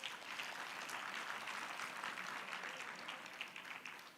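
A conference audience at the SATVETSA 2025 event gives a round of applause, a dense, even wash of many hands clapping, heard alone and sustained for a few seconds at a modest level.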